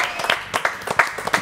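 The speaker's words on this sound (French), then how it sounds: "Allez, on les applaudit tous les deux." An audience applauds at a live show, with a brief burst of scattered, moderately distant hand claps.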